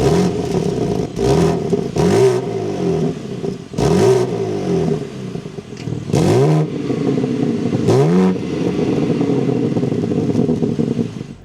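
A 2025 BMW M3 Competition xDrive engine idles loudly and is blipped repeatedly, about five sharp revs rising and falling in quick bursts over a steady rumble, heard close with no talking.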